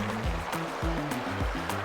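Waves in a video game: repeated swelling whooshes of surf roll in at a regular rhythm of about two per second, with a trickling water bed and faint low tones under them, no talking.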